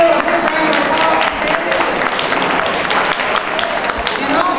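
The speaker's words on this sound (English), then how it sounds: "Miss Debbie, please give a big round of applause" Crowd applause at a county Republican Party barbecue in Winder, Georgia, loud and steady for several seconds, with voices mixed into the clapping.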